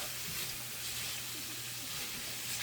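Shredded carrots sizzle in a hot pan with nearly cooked shrimp, a dense continuous hiss of frying that stays steady and close throughout.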